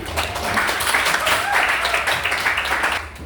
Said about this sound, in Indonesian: Kita berikan tepuk tangannya